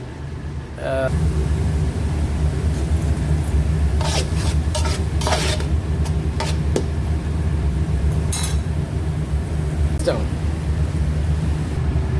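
A utensil scrapes and stirs an egg mixture for shakshuka in a pan, with irregular rasping strokes and occasional clinks over a steady low hum while a person talks.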